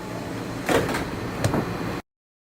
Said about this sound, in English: Please stand clear of the doors.